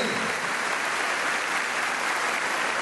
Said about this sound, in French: Un grand applaudissement pour eux.